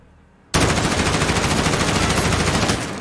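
Unmodified stock gun in the Modern Warfare video game firing full-auto, a sudden loud start after brief quiet and then a sustained rapid rattle of shots that cuts off just before the end, leaving a fading tail.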